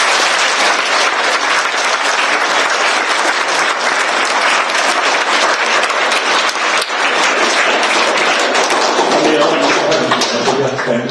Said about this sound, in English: So can we give her a round of applause?